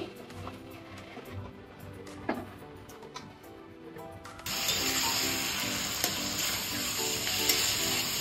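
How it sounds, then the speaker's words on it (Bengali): Chicken pieces being stir-fried with spices in a pan for a homemade chicken roll, a steady loud sizzle with scraping and ratcheting clatter of stirring, quieter at first then jumping to a fierce continuous frying hiss. "এখন দিয়ে দিচ্ছি মাংসটাকে ভালো করে কষিয়ে নেব।"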